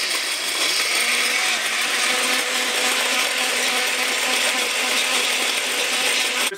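A kitchen blender grinds small chunks of HDPE plastic, a loud, continuous rattling whir with hard pieces clattering inside the jar the whole time, then cutting off at the end.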